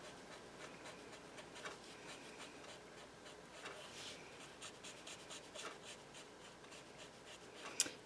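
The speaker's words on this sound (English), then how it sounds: "You're just coloring that whole surface there." Red marker scrubbing back and forth across a chipboard cloud stencil, a continuous dry scratchy rubbing with repeated strokes, close and fairly quiet, ending in a brief sharper tap.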